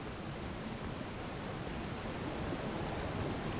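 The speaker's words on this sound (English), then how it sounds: "A Scarlet Rot waterfall?" Steady, dense rush of falling liquid from a Scarlet Rot waterfall in the video game Elden Ring, a continuous broadband roar at even loudness with no speech over it.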